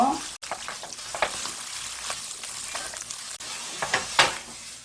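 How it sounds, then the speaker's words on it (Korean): Clams sizzle and crackle as they are stir-fried in about three spoonfuls of hot oil, with steady frying hiss and a few scraping stirs and light pan clatters, close by and without talk. "기름이 이렇게 달아올랐을 때 요거 바지락을 여기다 볶아주세요"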